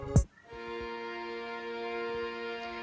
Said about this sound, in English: There's also these strings that play throughout the song.